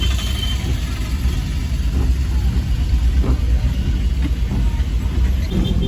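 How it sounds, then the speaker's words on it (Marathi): Heavy road traffic on a journey out of Ganagapur: a steady, loud low rumble of idling and slow-moving engines fills the whole stretch, with no voices. "फुल ट्रॅफिक आहे ना"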